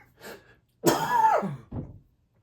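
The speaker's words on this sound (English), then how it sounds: "Not planning on coughing like that." A person coughs and clears their throat in a few rough bursts, close and fairly loud, with brief pauses between.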